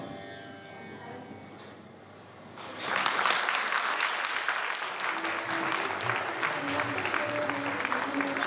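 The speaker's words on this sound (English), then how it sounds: "I think that deserves another round of applause." An audience at a multicultural show breaks into sustained applause after a play, the clapping swelling suddenly from a quiet room and continuing steadily and fairly loud to the end.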